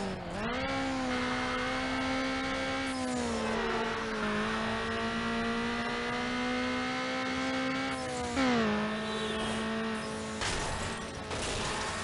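A Mitsubishi Eclipse racing car in Need for Speed Underground, its engine droning loud and steady with a whining tone that rises and dips through gear changes, close and continuous with no voices.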